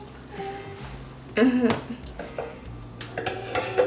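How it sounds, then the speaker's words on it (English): A knife cuts up a block of Velveeta cheese for homemade mac and cheese, with close clattering and scraping of the blade against a board and dishes, one sharper burst in the middle, and faint talk in the background. "Now I'm going to cut up the Velveeta."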